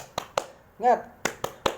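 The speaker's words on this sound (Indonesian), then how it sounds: "ayo kita tepuk semangat dulu. Tepuk semangat." A 'tepuk semangat' spirit clap at a school orientation session: two crisp, close claps, then a short voiced call, then a quick run of three more claps.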